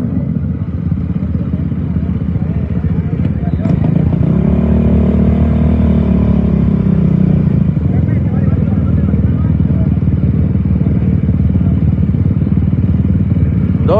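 Racing quad engines idle and rev at the Cabo 250 desert race start line, a loud continuous engine drone with a swelling rev in the middle, with a voice talking over it throughout.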